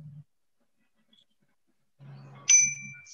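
A meditation bell in a yoga breathing session gives one clear, bright ding that rings and fades quickly, with a low murmuring voice just before and after it.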